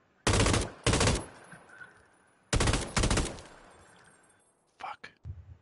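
Video game gunfire in short automatic bursts: two loud volleys, a pause, then two more, with fainter scattered shots at the end.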